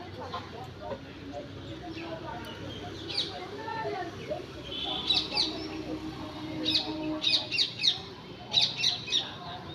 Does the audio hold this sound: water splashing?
no